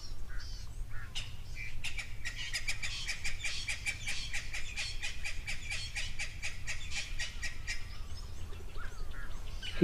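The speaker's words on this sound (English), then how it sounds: "our spurwing goose on the right and a little blacksmith's lapwing on the left" At a waterhole, a spurwing goose and a small blacksmith lapwing call together. Rapid metallic clinking notes and squawks repeat for nearly ten seconds at moderate distance over low ambient rumble.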